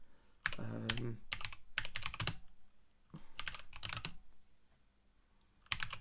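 Quick bursts of clicking computer keys come up close and fairly quiet, broken by short pauses between stretches of typing.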